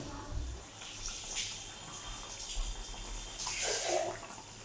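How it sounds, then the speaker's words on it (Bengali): Cauliflower and fish curry broth boiling in a pot on a gas stove, a soft continuous bubbling and gurgling with a few louder surges, close and fairly quiet. "ঝোল টকবক টকবক করে ফুটছে"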